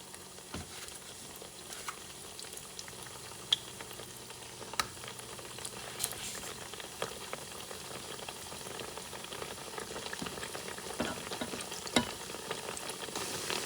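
Arepas de Puerto Rico frying in a shallow layer of oil, a soft, steady sizzle with scattered pops and occasional clicks, fairly faint and continuous with no talk.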